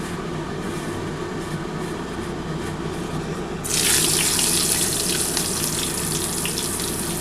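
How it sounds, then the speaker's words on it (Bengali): Round-sliced onions and tomatoes drop into hot frying oil halfway through, setting off a sudden loud, steady sizzling hiss over a low background hum, with no talk. "এই তেলের মধ্যে আমি যে গোল গোল করে পেঁয়াজ আর টমেটো কুটে রেখেছিলাম সেটা দিয়ে দিচ্ছি।"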